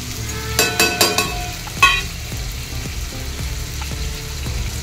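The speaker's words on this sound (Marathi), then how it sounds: "इकडे बघा आपल्या पाण्याला चांगली उकळी आलेली आहे।" Water at a rolling boil in a pot for mutton biryani rice, with whole spices and lemon added, gives a steady bubbling hiss, broken early by a few louder clinks and splashes.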